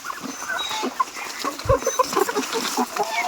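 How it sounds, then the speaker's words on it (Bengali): Tiger-breed chickens on a poultry farm give soft, scattered clucks close by over a steady background hum. "এই যেগুলো হইলো টাইগার মুরগি"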